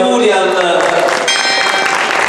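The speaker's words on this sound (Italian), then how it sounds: "Un applauso di auguri" Applause from a crowd at the inauguration of the restored town hall facade in Villaricca, Naples, a dense continuous clatter of clapping mixed with voices talking over it.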